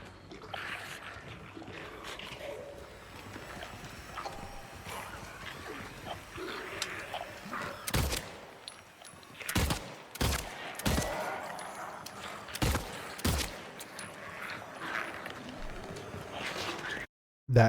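Pistol shots in the Silent Hill 2 Remake, about six sharp loud bangs spaced irregularly over a dim ambient background, with someone talking between them.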